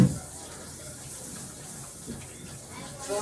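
A cutting board gets rinsed under a running kitchen tap, a steady close hiss of flowing water that continues throughout with small splashes and faint background voices.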